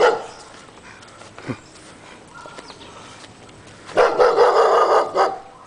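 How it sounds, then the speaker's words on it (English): A neighbor's dog gives a few barks outdoors during a residential walk-through: one brief sharp yelp early on, then a louder, sustained burst of barking near the end, fairly close, with no talk. "Here comes our neighbor dog, I guess."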